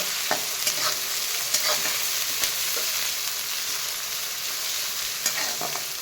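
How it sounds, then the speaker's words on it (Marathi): Chopped onion sautéing in a pan before wet cashews are added for a Maharashtrian cashew bhaji, a steady close sizzle and hiss with occasional soft stirring scrapes and clicks, no talking. "डायरेक्ट कांदा टाकते छान गुलाबी रंगावर होईपर्यंत परतून घ्यायचं आपल्याला"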